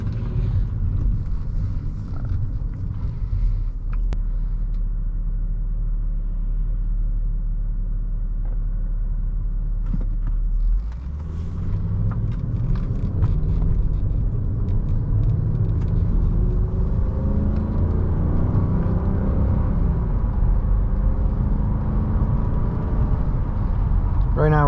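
A 2005 Mercedes-Benz S500 W220 cruising on a road in normal Drive Sport mode gives a steady low engine and road rumble with some wind noise, heard from inside the cabin.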